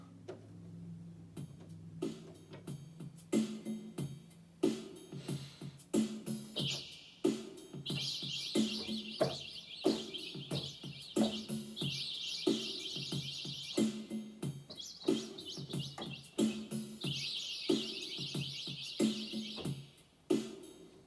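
Synthetic bird-like chirps and trills played on a keyboard instrument, bright repeated warbling phrases over a low rhythmic ticking accompaniment, steady and fairly loud with no voices.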